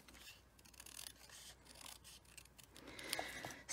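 Scissors fussy cutting paper for a handmade baby card, faint close snips and soft rasping strokes coming in uneven bursts, with a slightly louder rustle toward the end.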